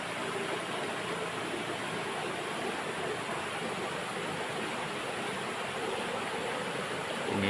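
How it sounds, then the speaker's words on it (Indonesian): A clear river runs through Kampung Jiet, a village in the interior of Kalimantan fed from mountain headwaters, making a steady, dense rushing wash that stays constant and close throughout without any voices. "Inilah kondisi sungai yang membelah kampung di Kampung Jiet ini"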